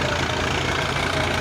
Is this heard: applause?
no